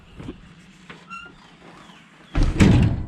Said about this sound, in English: Did you close the door so the dogs don't get out?